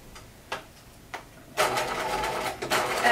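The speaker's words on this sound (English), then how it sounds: "Okay, so I'm gonna stitch at 5/8 of an inch." A domestic sewing machine stitching a skirt facing: two soft isolated clicks, then a steady rapid whir of stitching that pauses briefly and resumes, close and clear.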